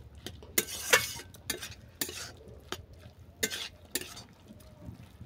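Soft small chuno fish stirred in a pan, a quiet sizzle with several close, sharp scrapes and clinks of a spatula against the metal, spaced irregularly.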